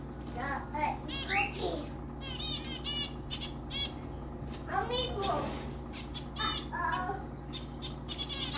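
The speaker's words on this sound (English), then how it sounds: "There's zebra finches." Zebra finches in an aviary with cockatiels chirp in quick, bright bursts, repeated at close range over a constant low background hum, with a voice chattering nearby.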